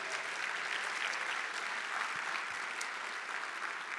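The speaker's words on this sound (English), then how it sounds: "Let's give a round of applause for Memorial" Audience applause at a city State of the City address, a sustained dense clapping from a large crowd, fairly distant and even, with no voices on top.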